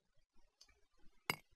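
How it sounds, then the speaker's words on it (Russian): A glass block is chiseled in the Minecraft Chisel mod, giving one bright, short glassy clink near the end with a fainter tick before it, otherwise quiet. "Все эти стекла обработать в чизеле"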